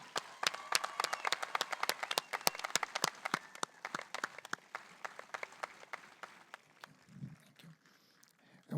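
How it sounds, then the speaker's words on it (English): A graduation crowd applauds the class of 2025: a fairly distant, sparse patter of individual claps with sharp separate hits that thins out over several seconds. "I'd ask that you would join me in a round of applause for the class of 2025"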